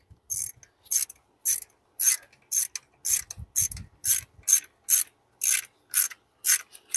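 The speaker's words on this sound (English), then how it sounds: "how to torque these bolts down by feel" A ratchet tightening valve cover bolts on a 2004-2006 BMW X3 E83, loud close clicking bursts repeating in a steady rhythm, about fourteen strokes with short pauses between.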